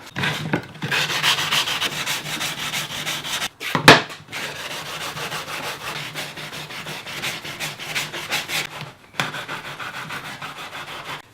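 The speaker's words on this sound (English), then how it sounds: "Let's sand the edges down" Steady back-and-forth rubbing of sandpaper by hand on the edge of a clear acrylic router base, close and continuous, with a couple of brief pauses and a knock partway through.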